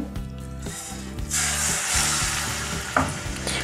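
Chicken mince hitting hot oil in a kadai and frying, a broad loud sizzle rising after a second and holding steady over a rhythmic mechanical ratcheting hum, with a brief clink of a utensil near the end and no voices.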